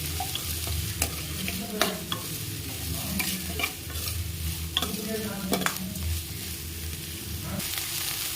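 Large onions frying in a pan, steady sizzle with repeated scraping clinks of a spatula stirring against the pan, close and continuous.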